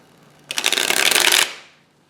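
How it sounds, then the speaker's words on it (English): A quick riffle shuffle of playing cards, a loud fluttering burst lasting about a second, close up and alone. "So from there you can just shuffle them."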